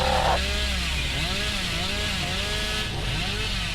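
Hillbilly's chainsaw revving in the Dead by Daylight game, a loud continuous buzzing engine drone with wavering pitch that swells and dips throughout, steady and close with no talk.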